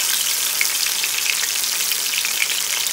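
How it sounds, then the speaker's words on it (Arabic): Fish sizzles and crackles in hot oil in a frying pan, a dense, bright, continuous hiss with small pops scattered throughout, close and steady with no talking. "شايفه كده الزيت بقى كويس جدا، هبتدي احط السمك بتاعي."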